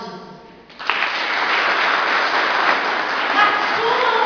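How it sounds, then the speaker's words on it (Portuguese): A church congregation breaks into applause, a brief voice giving way to steady, full clapping that fills the room and continues evenly to the end. "Aplauda Jesus."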